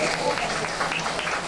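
An audience claps at an Easter Sunday talk, a dense, steady patter of many hands running the whole moment, while a voice speaks over it.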